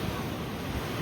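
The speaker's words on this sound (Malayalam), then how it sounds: "കടൽ" Sea waves wash against the shore at Kanyakumari beside the glass bridge near Vivekananda Rock, a steady broadband roar of surf mixed with wind buffeting the microphone, continuous and fairly loud with no talking.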